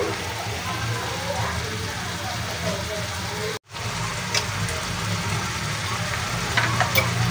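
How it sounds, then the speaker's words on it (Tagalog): Bicol Express sauce boils in a pan, a continuous close bubbling and sizzling with scattered pops and one brief dropout partway through. "Makikita nyo, nagkukuluan na."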